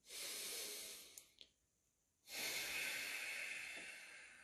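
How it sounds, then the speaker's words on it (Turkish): Slow, deep breathing during a guided relaxation session: a long audible inhale or exhale, a short pause, then another long, breathy draw of air, close and soft. "Üç tane derin nefes alın."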